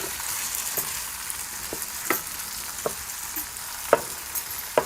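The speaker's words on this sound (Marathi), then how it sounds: "हे टमॅटोसुद्धा परतून घ्यायचं एक दोनच मिनिट आपल्याला हे परतून घ्यायचं" Tomatoes sautéing in masala in a pan for stuffed tomatoes give a steady frying sizzle, punctuated by scattered sharp spatula scrapes and taps, close and clear with no talk.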